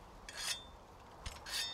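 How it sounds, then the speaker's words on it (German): Weapon being sharpened in the game Monster Hunter: World, heard as two quick rasping whetstone strokes with a metallic scrape, fairly faint and close, without any talk. "Schleifen wir nochmal die Waffe"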